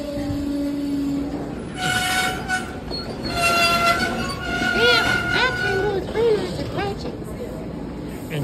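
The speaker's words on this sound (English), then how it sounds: "Here's the train." An Amtrak train rumbles past nearby, its horn sounding in short blasts and its wheels squealing, while people talk over the noise.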